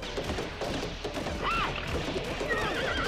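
A horse in a One Piece anime scene gives a loud whinny that rises and falls briefly, set among dense battle noise and clatter.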